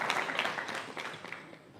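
An audience at a Sunday feast lecture on the Srimad Bhagavatam gives quick, scattered hand claps, faint and distant, fading over a couple of seconds.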